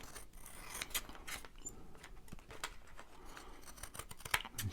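Scissors snip through a small craft tag in a quick run of crisp, close cuts, quiet and steady, with faint rustling between snips and no talk.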